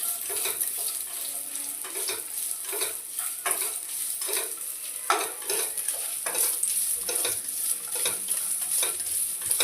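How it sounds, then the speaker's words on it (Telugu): Curry frying in the same kadai after coconut was roasted, for a potato curry: continuous sizzle with repeated scraping strokes of a spatula stirring, close and rhythmic, no voices. "కొబ్బరి వేయించి తీసి పక్కన పెట్టి ఇదే కళాయిలో కర్రీ వేసేస్తానండి"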